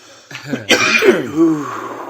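A single harsh cough with throat clearing, close and loud, trailing into a raspy wheeze.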